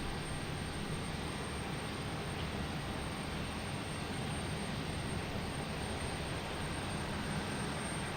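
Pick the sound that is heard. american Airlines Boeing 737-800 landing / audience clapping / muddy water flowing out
american Airlines Boeing 737-800 landing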